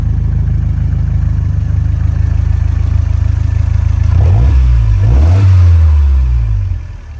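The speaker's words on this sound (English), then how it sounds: "I'll show you a little clip of this engine running." A Toyota engine idles steadily, then revs up sharply twice with rising and falling pitch, loud and close, before settling back down near the end.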